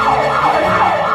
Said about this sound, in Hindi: क्या वो सायरन है?